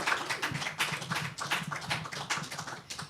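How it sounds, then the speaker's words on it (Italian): Rhythmic, steady clapping from a small audience at an Italian book presentation, close and fairly even for about three seconds with no talking over it. "mi permettete un applauso anche a lei"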